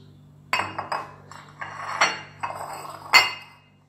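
A spoon strikes a mixing bowl several times as ingredients for a hand-whitening mixture of bread yeast, lemon juice and water are stirred, giving sharp, close metallic clinks with ringing tails separated by brief pauses.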